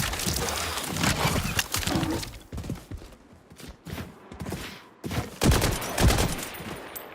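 Rapid bursts of video game gunfire, a mix of automatic and single shots, loud and dense at first, then sparser pops after a brief lull, close and unaccompanied by speech.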